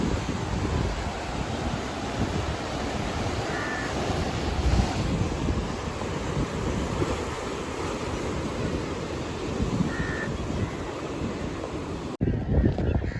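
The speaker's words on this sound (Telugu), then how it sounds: "అసలు ఎంత ఉధృతంగా వస్తున్నాయి చూడండి అలలు అయితే మాత్రం, అంత స్పీడ్గా ఉన్నాయి చాలా" Strong sea waves crash onto the shore near the Shore Temple coast, making a continuous churning roar mixed with gusty wind buffeting the microphone, which cuts out abruptly near the end.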